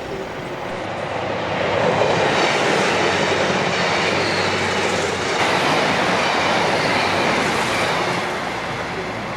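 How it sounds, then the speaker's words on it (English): A northbound train on the Glasgow & South Western Railway passes close by near a closed level crossing on a quiet road, a loud steady rumble of wheels and carriages with faint squeal, holding for the whole stretch. "so the northbound train must be approaching"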